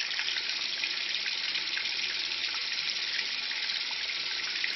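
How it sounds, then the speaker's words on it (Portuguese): Tap water runs in a steady, close splashing stream, a continuous bright hiss with no breaks or talk. "Imagine que a água dessa torneira é a sua coluna de ar"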